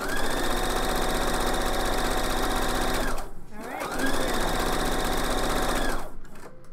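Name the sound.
sewing machine stitching side seams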